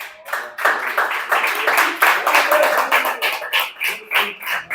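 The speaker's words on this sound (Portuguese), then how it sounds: "Vocês podem louvar o Senhor com as palmas?" A church congregation claps in praise in a reverberant hall, many hands striking in a steady, quick rhythm with a slight echo, loud and continuous with no talk over it.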